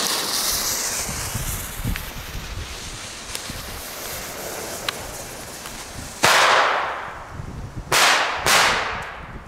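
Loud sharp bangs burst out one after another near the end, three cracks in quick succession from Titanschlag Blau TBD3-B firecrackers, over a steady windy hiss and rustle.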